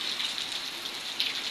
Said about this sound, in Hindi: हवा बारिश चालू है।